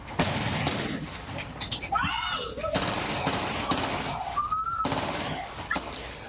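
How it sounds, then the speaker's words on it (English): Gunshots from a late-night shooting picked up by a home doorbell camera: several sharp cracks spread across a noisy, compressed outdoor recording, with voices and other street sounds mixed in. "That's a doorbell video capturing the sound of gunshots from an incident that happened late last night"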